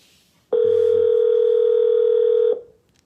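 Calling someone on a telephone produces one steady, loud electronic tone that lasts about two seconds and then stops, with no talk over it.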